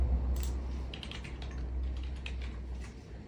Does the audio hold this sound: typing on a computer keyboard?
yes